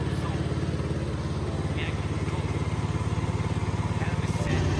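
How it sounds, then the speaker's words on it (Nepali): A Pulsar 150 motorcycle engine running steadily after a repair that cleared water from its silencer, a close, even, throbbing idle that holds throughout with a slight change in tone near the end. "फाइनल्ली बाइक स्टार्ट हो।"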